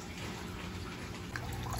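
Water streaming into a container holding a freshwater stingray being acclimated, a steady low splashing trickle, continuous and close, with no talk.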